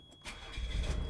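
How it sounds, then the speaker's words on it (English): A Nissan Figaro's engine cranks and catches, the starter whirring briefly before the motor fires into a steady, close idle rumble, heard alone with no talking. "So if I just start the old car up, little bell."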